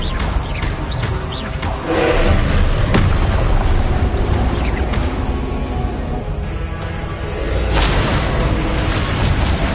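Confringo blasting-spell explosions in a Harry Potter video game: dense, continuous booming bursts and crackling blasts that stay loud throughout, with surges near the start and again toward the end.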